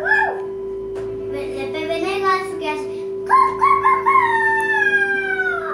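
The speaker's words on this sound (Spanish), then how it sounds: "El gallo se levanta muy temprano, ¿no?" Rooster crowing on a farm, two long rising-then-falling crows, close and clear, with a steady electronic tone underneath and a voice between them.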